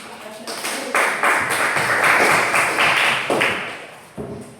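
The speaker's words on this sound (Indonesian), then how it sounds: "Kita semua tepuk tangan dulu." Students clap their hands together in a classroom, a dense, steady round of applause that swells and then fades before a final few claps.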